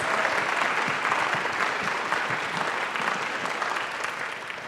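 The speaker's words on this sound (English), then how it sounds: "Could we give them a resounding round of applause for their efforts?" A panel audience at a mindfulness event gives a resounding round of applause, a loud, even wall of clapping that holds steady throughout.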